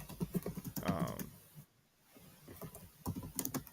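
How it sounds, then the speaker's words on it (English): Someone types on a computer keyboard at close range in quick irregular bursts of clicking keys, pausing briefly midway before resuming. "your typing throwing me off."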